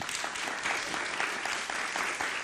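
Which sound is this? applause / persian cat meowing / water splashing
applause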